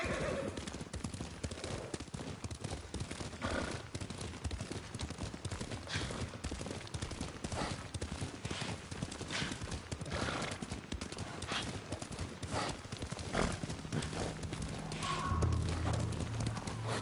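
Horses gallop with rapid, steady clip-clop hoofbeats and occasional whinnies in the samurai game Ghost of Tsushima, a continuous moderately loud ride with a neigh rising near the end.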